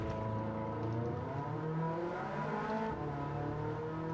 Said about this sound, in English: See them wheel spinning now.